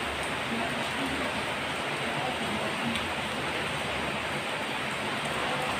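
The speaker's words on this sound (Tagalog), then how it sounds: "Asap ng tubig ang ulan mga ka-brownie." Rain falls in a steady, dense hiss that stays even and fairly loud throughout, with no clear voices.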